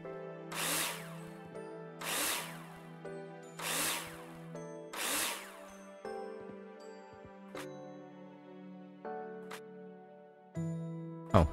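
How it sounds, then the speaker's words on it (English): Power drill in the construction game Builder Simulator, four loud whirring bursts at a steady rhythm followed by shorter clicks and brief tool sounds, heard alone. "we'll get all the doors in place here with the drill"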